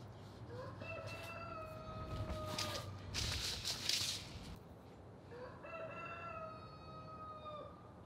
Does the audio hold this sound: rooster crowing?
yes